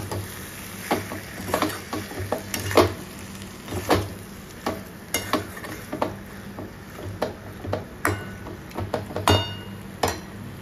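Capsicum, potatoes and carrots drop into a pressure cooker for frying, producing a run of irregular clinks, knocks and rattles against the metal pot over a constant background hum, close by and fairly steady.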